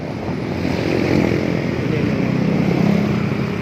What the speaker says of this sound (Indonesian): ini anak-anak naik motor nggak karu-karuan